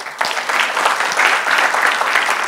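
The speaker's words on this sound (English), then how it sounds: "Let's give them a round of applause" A conference audience applauds at the close of a session on peace, diversity and inclusion, a sustained round of clapping with a slightly uneven swell, heard alone without speech.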